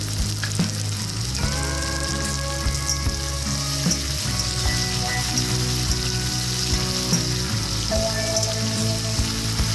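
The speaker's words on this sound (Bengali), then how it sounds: "নাড়াচাড়া করে অল্প লবণ দেব যাতে টমেটো নরম হয়ে যায়" Chopped tomatoes frying with a little salt for a Bengali mutton curry: a loud, continuous sizzle with crackling throughout, steady for the whole stretch, with occasional faint tones and scraping from stirring.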